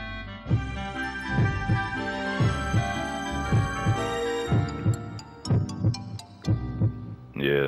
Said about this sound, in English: more than your heart beating right now, boy